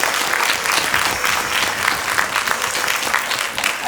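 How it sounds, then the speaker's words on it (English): An audience claps steadily for student performing arts musicians at a college celebration, a dense, sustained round of applause filling the whole stretch with no break. "So let's give them a round of applause."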